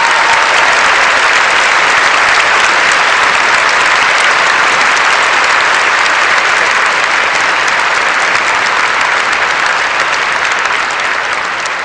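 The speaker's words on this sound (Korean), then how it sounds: "도전과 열정에 큰 박수를 보냅니다" A large audience gives sustained, loud applause at the Fields Medal award ceremony in Seoul, 2014, a dense steady wash of clapping that barely fades across the whole stretch.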